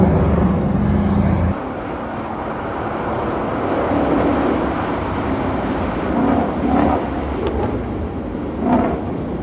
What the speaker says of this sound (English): Those are the GT500s going by